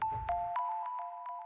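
Clean square-wave synth pluck arpeggio with no distortion: a few soft, bright repeating notes whose tails decay smoothly, close and moderately loud, with no one speaking.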